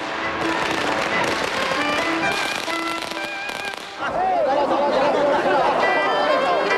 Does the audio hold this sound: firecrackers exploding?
yes